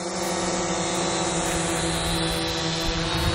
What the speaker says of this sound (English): I think this is some pretty typical noise for this Phantom style drone